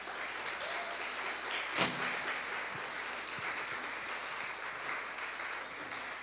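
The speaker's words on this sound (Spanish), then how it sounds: "cuántos le dan un aplauso a Dios por eso" A church congregation applauds during a Spanish-language worship service, a steady, dense wash of clapping from many hands that carries on for several seconds at a moderate, even level, with one brief louder burst.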